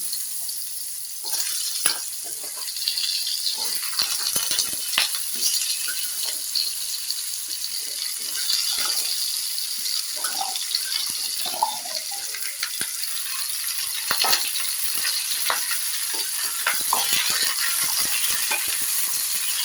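Cut potatoes sizzling in a hot pan with nigella seeds while being stirred, a steady close hiss of frying with scattered scraping and clinking of the spoon, no talking.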